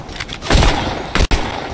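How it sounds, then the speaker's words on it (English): Gunfire in Fortnite, a dense loud burst of shots rattling steadily with a brief cut near the end, no voices. "Someone's shooting at me."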